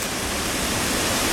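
A waterfall on Slippery Rock Creek near an old mill roars as a loud, steady broadband rush, close by.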